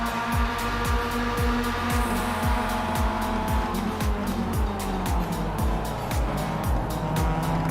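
Race car in the iRacing sim game overtaking, with engine tone rising and falling through rapid gear shifts and tire squeal during the pass, loud and close.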